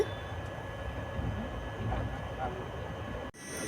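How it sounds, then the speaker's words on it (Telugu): An express train passes on the outskirts of Tirupati, heard as a steady low rumble with rushing noise throughout. A sharp cut comes near the end. "సో తిరుపతి అవుటర్లో మనకు ట్రైన్ అయితే క్రాసింగ్ అవుతుంది."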